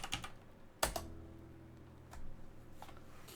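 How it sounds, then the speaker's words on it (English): Quiet keystrokes typing a password on a computer keyboard, a short cluster of close clicks followed by one sharper tap and a few sparse soft presses. "I'm going to type that in, password."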